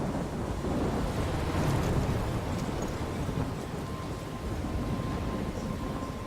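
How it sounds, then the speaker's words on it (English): A storm in the video game Life is Strange, where wind and crashing waves form a steady, loud, dense roar without pause and a low rumble of thunder sits underneath. "I'm trapped in a storm?"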